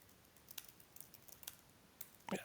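Fast typing on a computer keyboard, a faint patter of quick key clicks in a quiet room, ending with a slightly louder burst of keystrokes.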